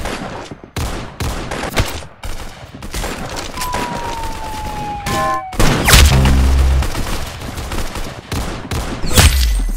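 Rapid bursts of video game gunfire from the shooter Arsenal, dense volleys and single loud shots rattling close and forceful, with short gaps and a few booming hits in between.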